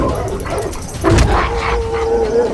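A dog barks and yips loudly up close in a Hindi animated tale of a miserly man, the canine voice rising mid-clip amid howl-like whimpers over a busy background.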